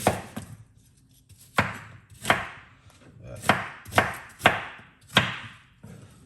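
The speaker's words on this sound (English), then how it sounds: "So we're cutting them up very small." A knife chops through a firm green apple on a cutting board, cutting it very small; about eight sharp, crisp strokes at an uneven pace, close and clear with no talking.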